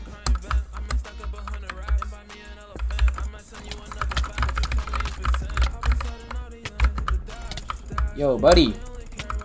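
Rapid clicking keystrokes on a $30 computer keyboard during Bedwars play, fast and steady throughout, with a voice speaking briefly and game sounds mixed in.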